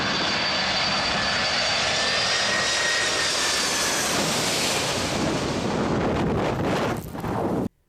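A fixed-wing airplane flying low over a runway, a loud roaring engine drone that swells and sweeps past close by before cutting off abruptly at the end.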